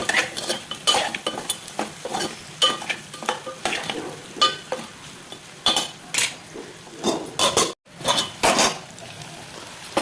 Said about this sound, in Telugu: పుదీనా వేసుకొని ఒకసారి కలపాలి.